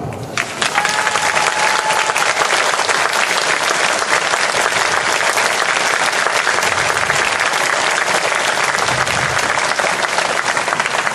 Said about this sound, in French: Merci à vous tous pour vos applaudissements